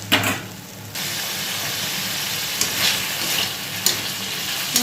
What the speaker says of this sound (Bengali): অল্প করে মশলাটা একটু ভালো করে কষে নেব